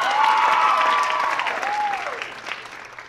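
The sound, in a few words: audience applause for students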